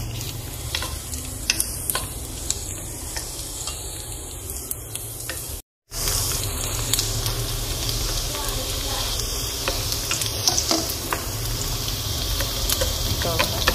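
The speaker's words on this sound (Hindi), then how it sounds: "थोड़ा सा डालेंगे प्याज, थोड़ा सा प्याज सोते करेंगे" Onions sautéing in a pan for a beef mince dish, a steady close sizzle and hiss with occasional stirring scrapes, continuing without pause apart from one brief cut.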